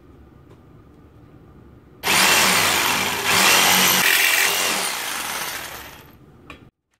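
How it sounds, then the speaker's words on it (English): A power tool cuts corners and notches in a steel enclosure, starting abruptly after a quiet moment and running loud and steady for about four seconds before winding down and stopping. "And now I'm going to cut all the corners and notches."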